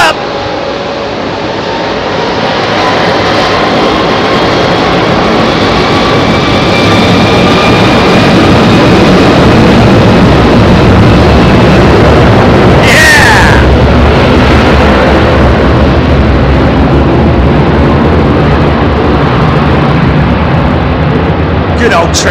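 A heavy jet airliner with Rolls-Royce Trent 700 engines departs London Heathrow runway 27R, a loud, continuous broadband roar that builds over the first few seconds and holds, with a brief crackle partway through.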